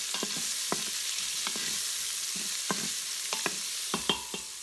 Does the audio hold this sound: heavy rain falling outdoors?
no